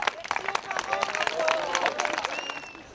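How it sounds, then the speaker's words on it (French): A crowd applauds at the close of an 11 November 2018 commemoration ceremony in Billom, France. Steady clapping is mixed with murmuring voices and scattered calls nearby. "on peut se permettre un applaudissement sur le lieu"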